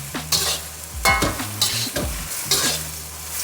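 Shrimp and scallions stir-fry in a hot wok for Yangzhou fried rice, with three loud rhythmic tosses and scrapes of the spatula over a sizzling hiss.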